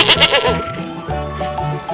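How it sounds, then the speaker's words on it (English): A sheep bleats loudly and close, a few wavering, quavering calls in quick succession with no other sounds. "This is sheep."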